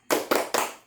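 Three quick bursts of group hand clapping in a rhythmic cheer pattern during a classroom-style training session, each burst crisp and close, with brief gaps between.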